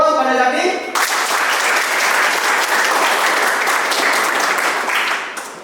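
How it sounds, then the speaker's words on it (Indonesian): Loud applause from a classroom or lecture audience for a student, a dense, steady burst of clapping that starts abruptly after a brief moment of talk and holds for several seconds before easing. "Beri aplaus pada Zaki"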